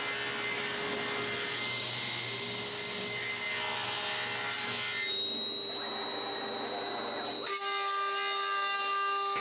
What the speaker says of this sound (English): I find the center of one end and cut all the corners